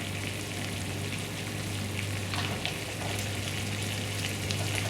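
Snap peas, carrots and cabbage frying in a pan for pancit bato guisado, a steady close sizzle with soft stirring scrapes and no talk.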